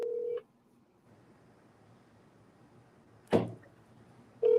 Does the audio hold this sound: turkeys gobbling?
no